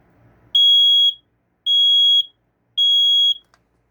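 Three identical piercing electronic beeps from a 2000s smoke detector without an LED during a test, each about half a second long, evenly spaced with silent gaps between.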